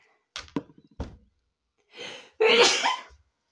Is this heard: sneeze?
yes